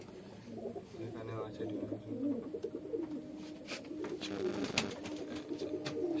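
Pigeons at a pigeon farm cooing softly in low, rolling phrases, close but fairly quiet, while a person talks over them.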